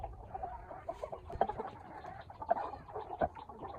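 Chickens in a farm house cluck softly and scratch about as they drink water on a hot, humid day, with short clucks and rustling scattered over a quiet, close background.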